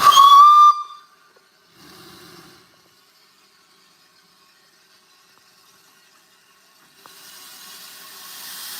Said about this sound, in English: The whistle is going.